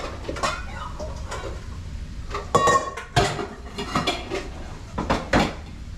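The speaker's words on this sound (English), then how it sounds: "I get out my strainer so I can get the grease off. And I get out my big metal bowl and put it all in to cool" A metal strainer and a big metal bowl are handled in a kitchen, giving a run of close, sharp clanks and rattling taps in irregular bursts, with a quieter background between them.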